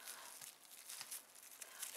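Transparent food plastic wrap is torn and handled close by, a faint, quiet series of crinkling and tearing rustles with small irregular bursts.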